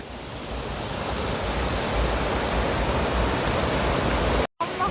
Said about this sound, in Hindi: Just hear the falls.